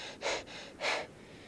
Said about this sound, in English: I do like this rapid succession of breathing to try to quickly pump more oxygen into me